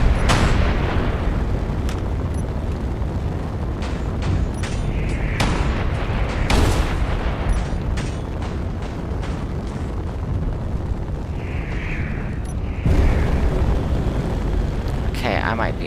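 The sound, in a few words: turret fire on a corvette in the video game Space Engineers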